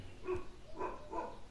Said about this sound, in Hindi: कुत्ते ही भौंक रहे हैं भयंकर